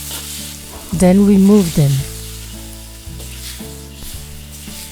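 Scallops stir-fry in hot oil over high heat in a wok, a steady close sizzle running throughout, with a brief spoken line near the start over the crackle.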